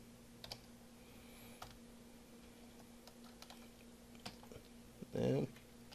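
Light typing on a computer keyboard, a few sparse soft key clicks spread across a quiet room with low hum, followed by a brief louder burst near the end; a voice is faintly present.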